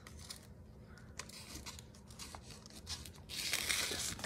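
Scissors cutting through paper packaging on an art parcel, with soft snips and crinkles close by, ending in a louder, sustained tearing rasp.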